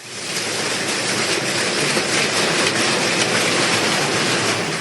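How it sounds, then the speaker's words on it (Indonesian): Pebble-sized hail pours down on a village on the slopes of Mount Merapi, a loud, dense, continuous hiss and patter that fills the whole stretch at a constant level, with no voices. "hujan es sebesar kerikil berjatuhan dari langit"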